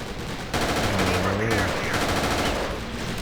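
Rapid, continuous automatic gunfire in Battlefield 2 with the AIX 2 mod on the Wake Island map. The shots are loud and dense, and a voice briefly sounds over them.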